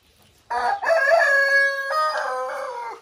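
A rooster crows loudly and close by among chickens, a long drawn-out call that holds for a couple of seconds before trailing off.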